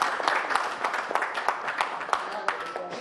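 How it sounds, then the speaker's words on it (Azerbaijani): A studio audience at a television programme claps in a steady patter of overlapping handclaps, moderately loud with a few sharper claps standing out, while a voice talks over it. "Alqışlayaq."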